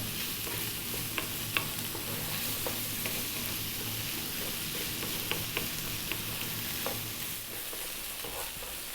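Eggplant filling with black pepper sizzles and fries steadily in a pan on lively high heat, with scattered clicks and scrapes of stirring over a continuous hiss.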